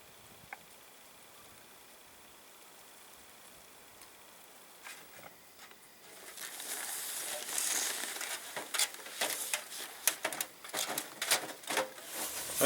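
Heavy rain patters outside a winter tent, starting faint and sparse, then thickening after several seconds into a denser, crackling hiss of irregular drops striking the fabric, fairly quiet and close, with no talk.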